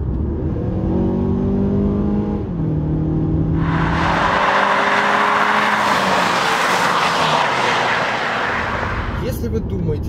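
The 2.5-litre engine of a Mazda CX-5 revs up loudly, rising and falling in pitch, then a strong rushing roar swells and fades near the end, with no speech over it.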